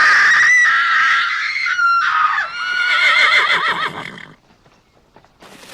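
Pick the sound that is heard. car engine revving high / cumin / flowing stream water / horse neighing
horse neighing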